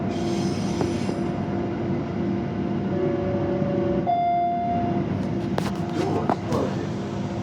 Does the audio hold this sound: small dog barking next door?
no